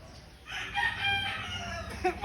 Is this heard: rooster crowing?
yes